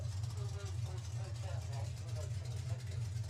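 A race car on the track at a drag racing test day, its engine a steady, rumbling low drone that holds for several seconds, with faint voices mixed underneath.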